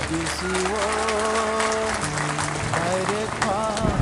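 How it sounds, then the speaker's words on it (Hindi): An audience at a district council gathering claps for an executive member, a steady wash of applause sitting beneath a voice talking loudly throughout. "विद्युत को थोड़ा ताली दे दो"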